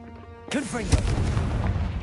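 The Confringo blasting curse in Hogwarts Legacy fires as a sudden loud whooshing burst that swells into a booming, rumbling explosion, close and full, after a brief quieter lead-in.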